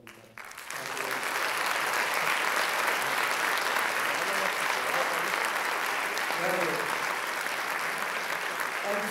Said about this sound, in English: We'd like to give you a round of applause for the gentlemen.